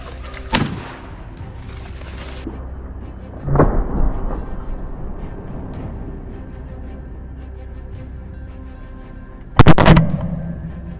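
Three sharp rifle gunshots at a wild boar ring out in a forest, spaced several seconds apart, each followed by a short echoing decay in otherwise quiet surroundings.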